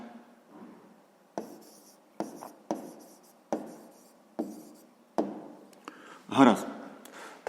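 A pen writes by hand in short bursts of scratchy strokes separated by brief pauses, close and quiet, during a sixth-grade math exercise.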